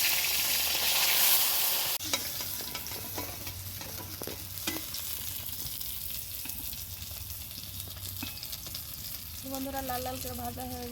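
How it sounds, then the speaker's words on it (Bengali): Katla fish pieces coated in chilli, cumin, ginger and garlic paste fry in a pan with a steady, continuous sizzle, a few clinks and stirring scrapes, and brief faint talk near the end. "বাকিগুলো এরকম করে ভাজবো আমি"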